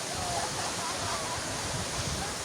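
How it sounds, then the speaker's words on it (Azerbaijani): Mamırlı (Ramrama) waterfall in Qax, a 76-metre fall, pours with a steady, dense broadband rush that stays even and unbroken throughout, with no voices over it. "Bu şəlalənin ikinci adı Ramrama şəlaləsidir."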